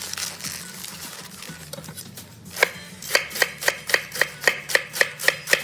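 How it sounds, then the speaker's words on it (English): A knife slices through stacked, rolled rainbow chard leaves into fine chiffonade on a cutting board: after a quiet start, a near, steady series of about ten crisp chops in an even rhythm. "if you want to do it really fine, like a chiffonade, it's actually better to stack them up like this and then roll them"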